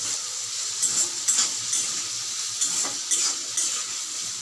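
Banana flower curry with salt being stirred in a pan, a soft steady sizzle with intermittent scraping strokes and light clinks of a spoon against the pan, close and moderate, no talking.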